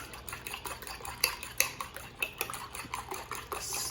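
A utensil whisks beaten eggs in a bowl for breakfast tacos, giving a quick, irregular run of light clinks and taps against the dish, quiet and close, with no talking.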